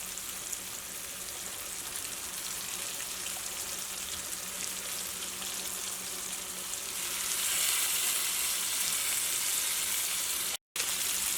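Ground chickpeas fry in oil in a pan for a curry, with a steady, rain-like sizzle throughout that grows slightly louder and brighter near the end.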